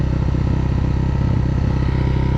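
A motorcycle engine idling close by, a loud, steady low putter that runs evenly throughout, on an off-road dirt bike just started.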